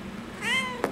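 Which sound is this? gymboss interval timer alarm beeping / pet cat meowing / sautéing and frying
pet cat meowing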